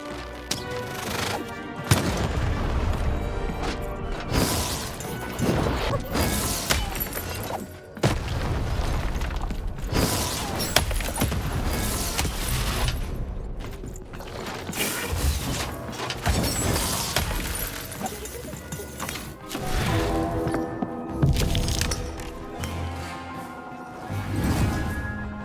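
Cannon blasts from the video game Lost in Random boom repeatedly amid crashing, shattering and clanking mechanical game effects, loud and dense across a long stretch with music underneath.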